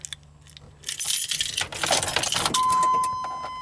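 Keys for a 1999 GMC Yukon SLT jangle as they are handled, starting faintly and then swelling into a loud, close burst of clinking metal before trailing off into a steady hum.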